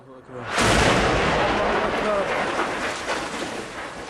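A heavy artillery shell explodes in a Damascus suburb, a sudden loud blast that rolls into a long, slowly fading rumble and debris roar, with a voice faintly audible before the impact.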